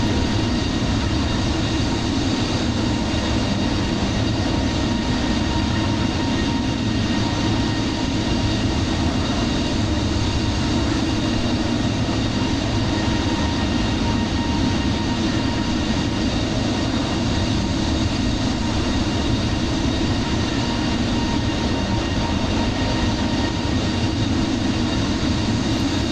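Steady jet engine roar of an A32NX airliner in Microsoft Flight Simulator 2020, a loud continuous broadband hum held evenly throughout with no talking.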